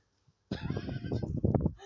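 A mare neighs loudly and close by in a long shaky whinny that rises and falls for over a second, heard on a muddy pony pasture after a brief quiet start.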